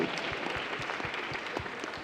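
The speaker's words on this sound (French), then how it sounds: "vous pouvez les applaudir" Hackathon prize-giving audience clapping for the winning group, a short, fairly faint burst of steady applause from a crowd.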